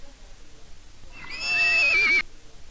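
A horse gives one loud, close whinny that rises, wavers and then falls away, ending abruptly against quiet background noise.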